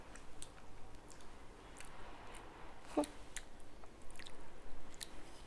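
Chewing on a mouthful of food with sambal, soft moist mastication repeating close to the mic, a brief sharp crunch in the middle, with no one talking.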